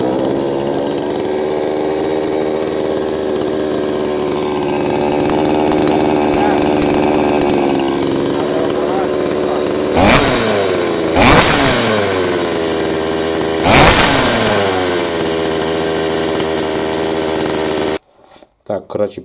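A Chinese chainsaw's small two-stroke engine screams loudly at high RPM during a carburetor repair, holding a sustained whine, then dropping and surging in three sharp revving bursts before cutting off abruptly.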